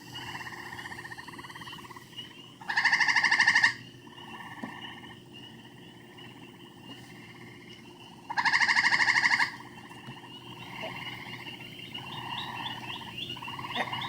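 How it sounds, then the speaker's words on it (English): Outdoor chorus of spring peepers, green frogs and gray tree frogs, with steady overlapping peeps and chirps punctuated by two loud, seconds-long trilling bursts close by. "they are the peeper, the green frog, and the gray tree frog"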